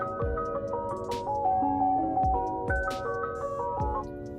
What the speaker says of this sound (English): So we can make the car sound like an ice cream truck.